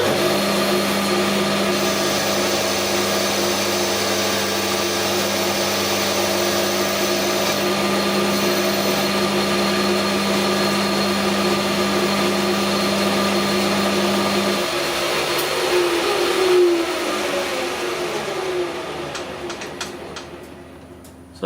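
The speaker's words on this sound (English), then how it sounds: "I'm just going to put a chamfer here now to allow for the bit of weld" Lathe cutting a chamfer on a Massey Ferguson 65 tractor front axle pivot: a steady close motor hum with a tonal whine, changing pitch near the end as the machine winds down, no talk.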